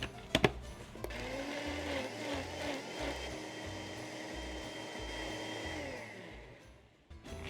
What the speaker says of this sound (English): And now I'm gonna blend it.